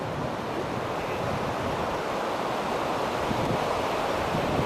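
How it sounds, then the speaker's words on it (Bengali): Water rushes steadily through the Jaldhaka barrage in North Bengal, with Bhutan across the river, giving a dense, continuous broadband roar close by, mixed with some wind buffeting and no voices. "জল যাচ্ছে।"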